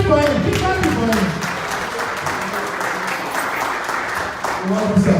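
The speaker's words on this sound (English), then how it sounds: "Keep clapping for him." Audience applause welcoming a speaker at an evening fundraiser event, steady sustained clapping from a crowd filling the whole stretch, with a voice speaking over it near the start.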